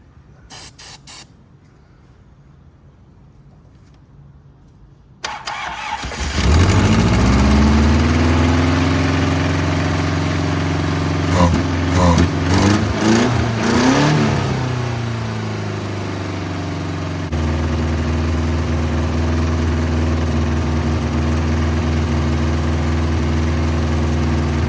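Short hissing bursts of ether spray, then an abandoned Toyota TE72 liftback engine catches and roars loudly, revs unevenly with some sputtering, and settles into a steady, close idle.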